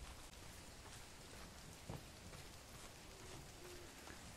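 Steady rain from a Bigfoot-hunting video game, a dense continuous patter with a faint distant rumble partway through and no talking.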